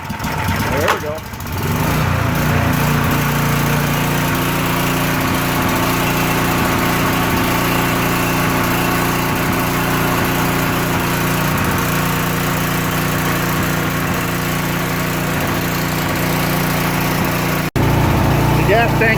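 A portable generator engine converted to run on LP gas sputters briefly, then runs at a steady, loud, buzzing drone for a long stretch, with voices talking over it at times.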